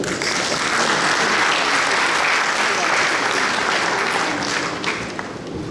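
Steady, heavy applause from a large audience at a Jovenel Moïse gathering in Montréal, full and continuous before easing slightly near the end, with faint talk mixed underneath.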